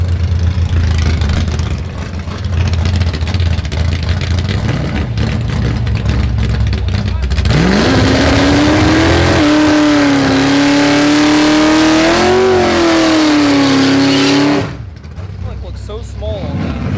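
A loud drag race car engine at a track idles and then revs hard, its rising and falling roar holding strong and close before cutting back to a lower rumble near the end.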